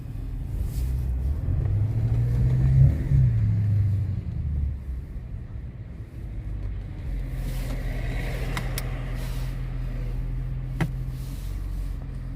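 An Audi A8 rolls slowly through a 30 km/h zone with a low, steady engine rumble and road noise. The engine swells briefly early on, then settles back to a smooth cruise, with a few faint clicks.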